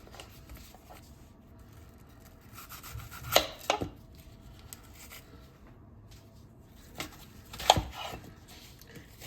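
An onion being chopped with a knife on a cutting board while cooking a red chili sauce, giving a few quiet, scattered cutting taps over faint background noise.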